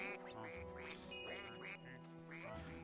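Juicy Goose piñata in the video game Viva Piñata quacking in a series of nasal calls over steady background game music, clear and close.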